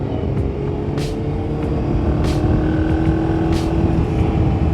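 A Ducati Monster motorcycle ridden through a bend on a wet road, its engine a steady close drone under rushing wind with a few sharp hissing bursts.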